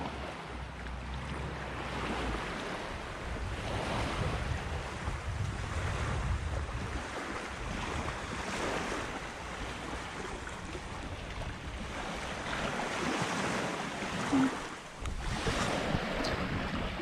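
Ocean waves wash steadily onto a beach in Thailand, a loud continuous roar of surf with heavy wind buffeting the microphone throughout, no voices.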